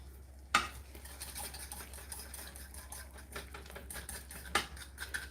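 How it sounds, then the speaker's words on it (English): Gravy is stirred in a pot on a home stove: a soft, steady scraping and patter with a couple of sharper clacks against the pot, set over a low constant hum, with no talking. "it just needs to be stirred again"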